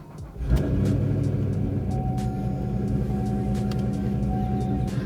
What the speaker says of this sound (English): we're going to go ahead on and we're going to start the car